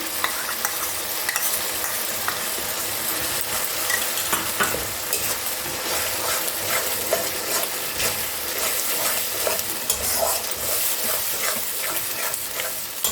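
Spice paste with onions and cream sizzles steadily in oil while being stirred for Mughlai chicken, a dense, constant frying hiss with faint scraping throughout.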